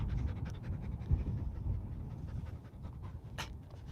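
A Bernese mountain dog pants rapidly in the heat, a steady, close, breathy rhythm that continues throughout with no talk over it.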